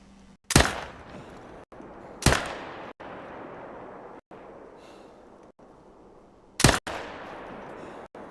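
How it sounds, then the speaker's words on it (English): Three loud rifle shots ring out during a hunt in Call of the Wild, each sharp crack trailing a brief echo, spaced irregularly over steady outdoor wind and ambient noise. "My shooting is not very good at the moment, is it?"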